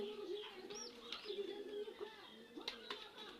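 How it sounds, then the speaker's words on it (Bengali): A baby Bazi pigeon and other pigeons coo softly in low repeated calls, with a few higher chirps and faint background noise around them. "দেখেন কত সুন্দর একটা কবুতরের বাচ্চা"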